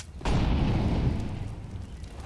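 An incendiary grenade in CS:GO on the Cache map bursts into a loud whooshing ignition, followed by a sustained rumbling roar of flames that slowly fades.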